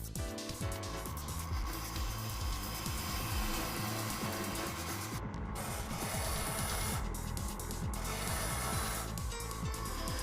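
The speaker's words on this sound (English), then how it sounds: "We true the stone." A diamond truing tool grinding against the sharpening stone of a SCANGRIND wet stone grinder, a continuous dense rasping hum with a constant motor drone, steady and close throughout.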